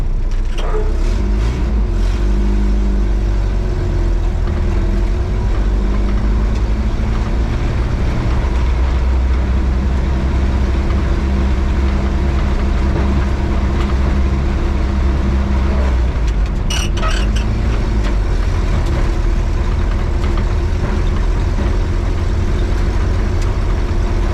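A 1953 Willys Overland pickup truck, driven for the first time in 47 years and in need of new shocks, gives a loud steady engine drone and road rumble heard from inside, with a few rattles and knocks.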